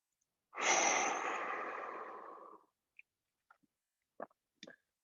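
A single long, deep breath, close and audible, comes from someone in a live abs and core exercise class and fades over about two seconds. A few faint clicks and small mouth sounds follow in near silence.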